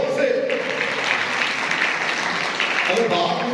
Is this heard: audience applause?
yes